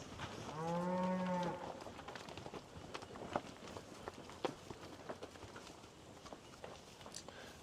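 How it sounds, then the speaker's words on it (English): A cow moos once in a pasture, a single loud, drawn-out low call near the start, followed by quieter rustling and light movement sounds outdoors. "Yeah, there was the cow that we had to treat."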